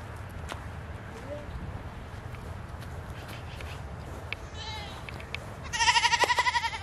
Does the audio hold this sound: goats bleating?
yes